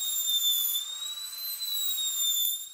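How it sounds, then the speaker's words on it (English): A dentist's drill carving an eggshell gives off a high, thin, steady whine with a slight wavering pitch, continuous and close, with no voices over it. "uses a dentist drill to carve eggs"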